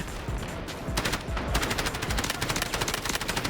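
Rapid automatic gunfire in the Delta Force shooter game, dense bursts of shots that grow steadier and continuous, loud and close with no talk.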